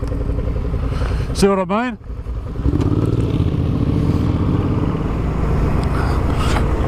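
Adventure motorcycle riding off road on dirt, its engine a steady rumbling drone throughout while a rider talks over it.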